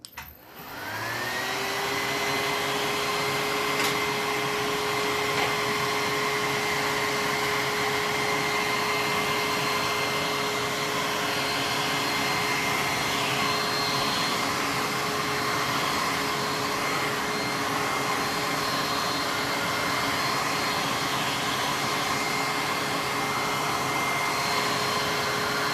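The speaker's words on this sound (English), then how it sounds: "I'm gonna blow dry it really quickly" A hair dryer blows over wet acrylic paint, switching on at once into a loud, steady whooshing roar with a constant motor whine that holds unchanged throughout.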